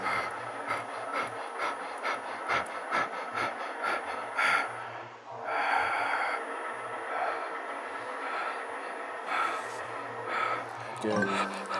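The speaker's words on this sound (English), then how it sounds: "Good, smooth breathing." Heavy, rhythmic breathing and gasping of a person straining through an ARX strength workout, close and loud, with a coach talking over it and a steady mechanical hum beneath.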